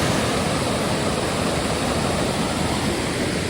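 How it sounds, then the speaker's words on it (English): Waterfall cascading down over rocks into a lake on a fall forest trail, a steady, loud, dense roar of rushing water that stays constant throughout with no voices. "All of the rocks are just thrumming with the energy of the water as it cascades down into the lake."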